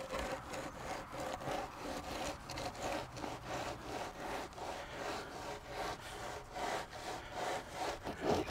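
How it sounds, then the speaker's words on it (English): Steady back-and-forth scraping as a board is drawn across the top of a small, freshly poured wet concrete slab, rhythmic rasping strokes repeating close by and alone. "What I'm doing now is screeding the top of it"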